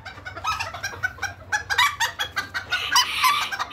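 Miniature roosters at a breeding farm on a ranch cluck busily and crow in overlapping bursts, several birds close by with a low hum underneath.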